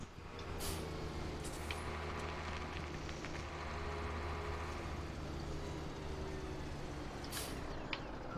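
A tractor engine hums steadily and close during a sugar beet harvest, a continuous low mechanical drone with tonal whine and occasional brief hisses, the knocking not clearly distinct within the constant running noise.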